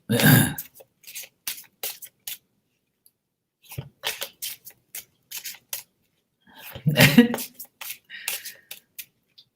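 Several sharp, harsh coughs burst out close by, separated by long silent gaps, with a longer fit of coughing near the end.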